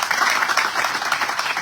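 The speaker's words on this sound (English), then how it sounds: "We should always give a clap for her." Brief burst of audience clapping for an embassy official at an orientation for incoming Pakistani doctors in Dublin, a short, even patter of many hands.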